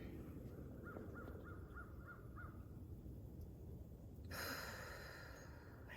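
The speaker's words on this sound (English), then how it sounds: "The crows are all out still squawking at me." Crows cawing in snowy winter woods at a backwoods campsite near a fire: six quick, evenly spaced caws in a row, moderately distant, over quiet outdoor hiss, followed by a brighter rustling burst.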